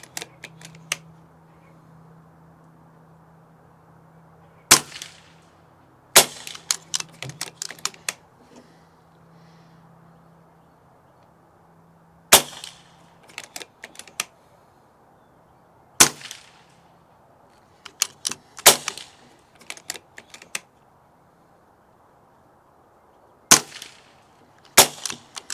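BRK Ghost airguns firing at targets 50 yards away: sharp, distinct shots spaced several seconds apart, some followed by quick clicks of cocking or loading, over a quiet outdoor background with a low steady hum.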